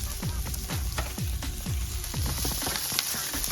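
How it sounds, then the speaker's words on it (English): Steady, loud sizzling and crackling of a noodle dish frying in a hot pan, with a constant hiss and rhythmic popping throughout. "you'll hear hopefully a nice sizzle there"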